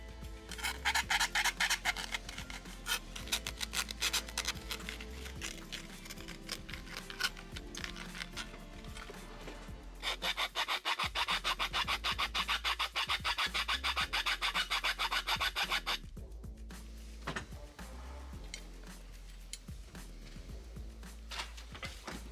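A hand file rasps back and forth to widen a hole in a light fitting during a DIY van build, in long rhythmic bursts of close scraping strokes with short pauses between them and no talk.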